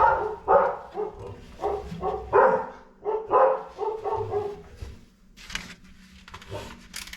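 Dogs bark in a rapid series of loud, close barks, then the barking gives way to quieter yips and scuffling.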